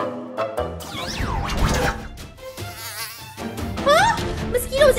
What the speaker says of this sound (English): Mosquitoes everywhere again?